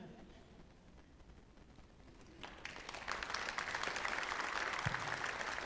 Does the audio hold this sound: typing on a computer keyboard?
no